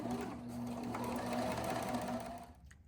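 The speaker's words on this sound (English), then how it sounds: "when I'm stitching my miniature bears, I will sew most of it by machine." Sewing machine stitching a miniature teddy bear, a steady close whir running continuously for about two and a half seconds before cutting off.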